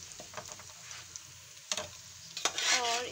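Whole spices being stirred into browned fried onions in a pan for aloo keema, giving a soft frying sizzle with scattered stirring scrapes that swell louder near the end.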